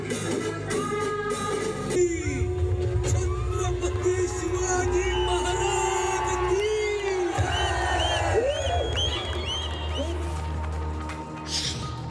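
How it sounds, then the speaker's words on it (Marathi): A crowd of Shivaji admirers cheering at a statue unveiling in Pune, whoops and shouts rising over a dense roar, with loud voices and whistle-like calls throughout. "यावेळी शिवप्रेमींनी जोरदार जल्लोष साजरा केला."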